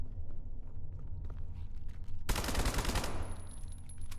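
Gunfire in the video game SCP: 5K, heard as a sudden dense burst of rapid machine-gun shots that cuts in after a quieter stretch of ambience, loud and continuous for about a second before trailing off into a lingering ring.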